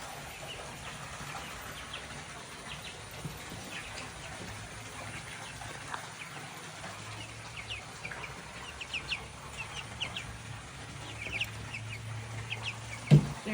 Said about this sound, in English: They're nice and happy in their nice little chicken coop.